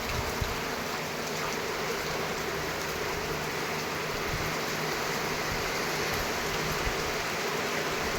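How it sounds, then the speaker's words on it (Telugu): Heavy rain falls steadily on a village shelter, making a constant dense hiss for about eight seconds with no voices. "వర్షం అయితే బాగా వస్తుంది"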